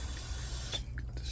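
Liquid sprayed down into screw threads makes a short, close hissing burst that sputters briefly before stopping.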